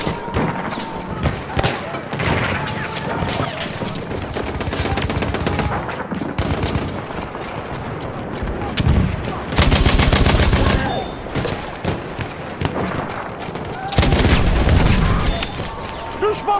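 Perino Model 1908 light machine gun firing in a video game battle at Achi Baba, long bursts of rapid automatic fire amid booms and battlefield noise, with two especially loud close bursts and voices shouting in between.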